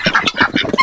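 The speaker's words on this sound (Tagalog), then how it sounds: "Ano ba ang tawag sa inyo nito na ibon? Tikarol kung tawagin sa amin." A tikarol bird tangled in a net gives rapid harsh squawks, about six quick close calls in under a second, loud and near.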